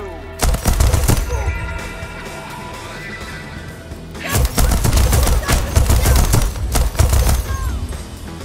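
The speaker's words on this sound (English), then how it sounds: "I'm just gonna have to shoot everyone." Rapid bursts of gunfire from the first-person shooter Deathloop, loud clusters of shots and machine-gun fire in two heavy bouts separated by a brief lull, set against game sounds and music.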